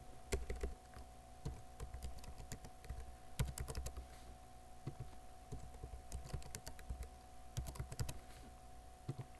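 Computer keyboard typing while entering an email address and password, a quiet run of soft key taps in irregular bursts with brief pauses, close and alone, no voices.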